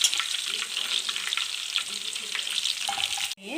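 Curry leaves and tomato frying in a pan for a chicken keema curry, a dense continuous sizzle with faint stirring, cut off abruptly near the end by a brief different sound; no talking.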